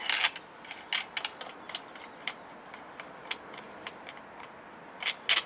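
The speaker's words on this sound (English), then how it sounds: "You can hear that ratcheting." Assembling a Nemesis Arms take-down sniper rifle produces a run of sharp ratcheting clicks, close and crisp, spaced irregularly with a quick cluster at the start and another near the end.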